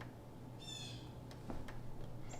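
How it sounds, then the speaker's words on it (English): A blue jay calls in the background beside a sewing table, one harsh, raspy call followed by a few brief chirps, faint and distant against steady room noise. "you might hear a blue jay in the background"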